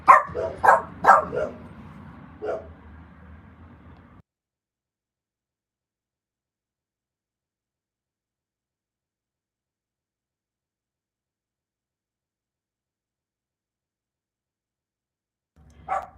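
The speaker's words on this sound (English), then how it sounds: "the dogs started barking" Dogs bark in a quick burst of several sharp yips and woofs close by, trailing off into silence, then one more short bark near the end.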